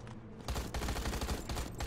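Rapid automatic machine-gun fire in the ZMR zombie shooter, a dense sustained burst of loud close shots with no talking.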